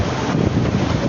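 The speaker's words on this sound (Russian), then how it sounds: "в Сочи начался самый настоящий шторм" Storm wind batters the microphone by the sea at Sochi, a brief, loud, blustery rush with the churning wash of waves underneath and no speech.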